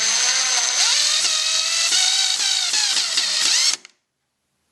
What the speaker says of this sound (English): Always pre-drill holes into plastic or plexiglass.